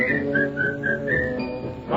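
A film song features a bright whistled tune of short repeated notes in a bouncy rhythm over soft orchestral accompaniment, clear and close.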